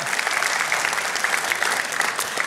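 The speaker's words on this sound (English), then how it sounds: "we can clap for that" A church congregation claps together in sustained, dense applause that stays steady and fairly loud throughout, with no speech over it.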